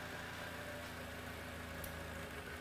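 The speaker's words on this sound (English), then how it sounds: "Engine is working on petrol." A Honda car engine running on petrol idles steadily at a low, faint level, with a continuous even hum and no speech.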